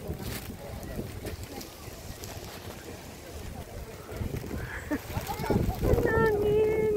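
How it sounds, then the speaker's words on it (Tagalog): Strong wind buffets the microphone in low gusty rumbles at Nanya Park, Sakae, with water and a boat's motion audible and a brief voice near the end. "Ang hangin."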